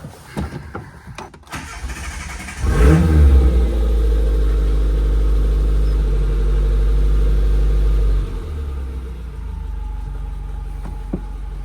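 A Suzuki Samurai engine fitted with MSD ignition cranks briefly after some clicks, catches with a rev and settles into a loud steady idle, then drops off to a quieter tail near the end.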